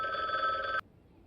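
A telephone in the video game The Bookwalker: Thief of Tales finishes a loud, shrill electronic ring that cuts off abruptly into quiet.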